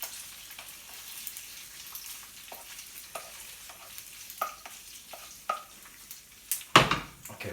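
Spaghetti aglio olio e peperoncino being tossed in a frying pan gives a low, steady sizzle broken by repeated soft stirring scrapes and clacks, ending in a louder, sharper clatter.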